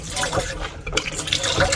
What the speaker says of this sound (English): Get some water.